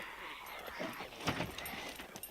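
A dog in the Scum video game gives soft, close whimpers and short yips in a brief run, with no talk over it.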